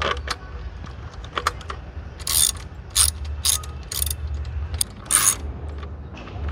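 A hand ratchet works a screw loose from the fairing of a Kawasaki Versys 650 motorcycle, sounding as close, crisp clicking bursts in irregular runs with brief pauses between, no voices.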